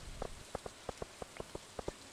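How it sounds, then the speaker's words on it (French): Rain in the Stardew Valley video game plays as sparse, soft, evenly spaced droplet ticks, quiet and isolated with no voices. "Il pleut, alors elle reste à l'intérieur."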